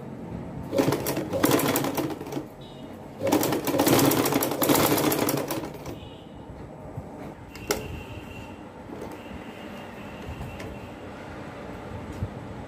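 A sewing machine stitches fabric for a baby frock in two loud, rapid runs of whirring, each a couple of seconds long, then falls back to faint mechanical clicks and a low room hum.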